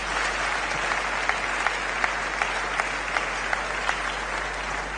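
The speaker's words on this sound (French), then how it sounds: "Vraiment, acclamons des telles personnes" A church congregation claps to acclaim a visiting pastor, steady applause running the whole stretch with a few sharper rhythmic claps standing out above the crowd noise.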